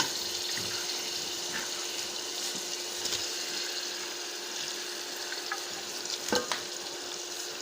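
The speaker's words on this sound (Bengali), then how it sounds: "মাংস দিলাম কড়াইয়ে দিয়ে ভালোভাবে নাড়াচাড়া করে" Beef being stirred in a kadai over the heat gives a continuous low sizzle, broken by scattered scraping and clinking from the stirring. One sharper clatter comes near the end.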